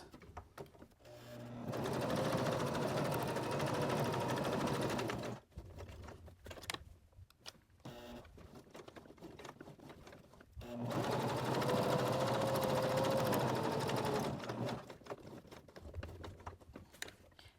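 Sewing machine stitching a fabric pieced Christmas tree ornament, running in two steady rapid bursts of several seconds each, close and loud, separated by quieter handling noises.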